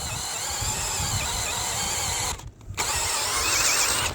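A cordless drill with a nearly flat battery drills into clay, whirring steadily at close range with a harsh, grinding tone, pausing briefly before spinning up again.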